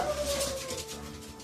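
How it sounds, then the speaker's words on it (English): Dogs bark and howl continuously at a moderate distance indoors near a printer being set up, a busy overlapping chorus of yips and whines with no talk over it. "Hang on, dogs are barking."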